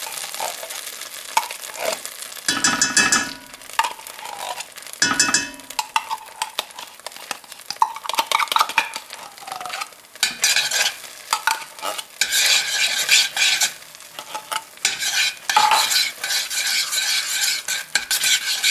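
Spaghetti sauce frying in a pan while being stirred and swirled, a steady busy sizzle broken by scraping utensil strokes, close and fairly loud with no talking.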